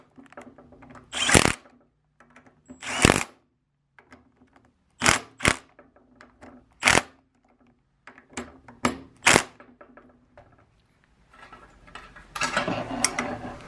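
Ratcheting clicks sound in short bursts as a wrench tightens the cast-housing wiper motor mounting bolts on a second-generation Cummins truck, close by with pauses between the bursts.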